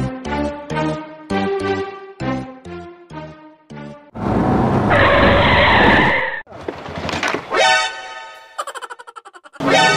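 A car skids loudly with a long screech of tires, driven recklessly. Rhythmic music plays before it, and a sharp burst of engine and skid noise follows near the end.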